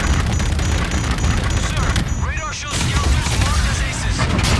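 Incoming missile explosions in Call of Duty: Infinite Warfare, a dense stretch of booming blasts and gunfire with a brief lull before the barrage resumes, loud and continuous, with voices talking beneath.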